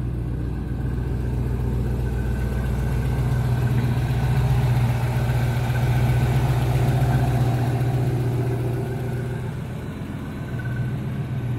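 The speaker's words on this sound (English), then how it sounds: "Car sounds good, makes a really nice exhaust note." A 1980 Pontiac Firebird Formula sits at a steady idle, its exhaust giving off a loud, even low rumble that stays unbroken for several seconds with no talking.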